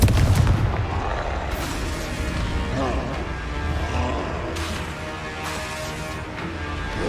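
Fire-blast spell explosions cast in the wizarding game Hogwarts Legacy, a loud booming blast at the start followed by repeated crackling bursts and rumbles under game noise.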